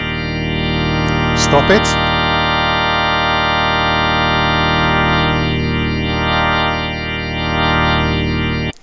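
A Yamaha CK61/88 stage keyboard plays a sustained full-drawbar organ chord through a rotary speaker effect, with a swirling, pulsing tremolo from the spinning horn and drum; a voice speaks briefly early on over the loud, steady tone.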